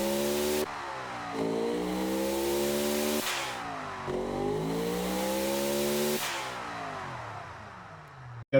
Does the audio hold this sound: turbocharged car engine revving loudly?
yes